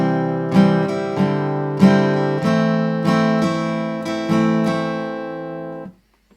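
Acoustic guitar strums chords in a steady rhythmic pattern, each strum ringing out, then the playing stops abruptly near the end.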